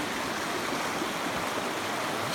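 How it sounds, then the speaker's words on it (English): A creek streams steadily through the Grape Creek water gap on the South Canyon Trail System near Cañon City, Colorado, a continuous, close, moderate rush of water with no voices. "Stream's not too high."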